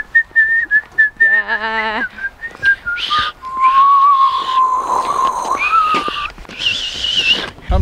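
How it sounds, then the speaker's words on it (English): A person whistles unevenly at close range, wavering pitched tones and trills broken by breathy airy gaps, with a brief spoken word in between. "I can't whistle that well."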